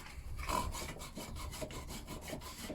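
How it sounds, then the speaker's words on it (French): Sandpaper rubbing over a PVC pipe being repaired, a steady rasping scrape repeating in quick back-and-forth strokes, close and moderately loud with no talking. "bien poncer"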